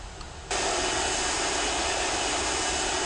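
Airliner taking off in the World of Airports game at Washington airport, with a broad steady jet engine roar that cuts in abruptly after a quiet moment and holds loud and constant.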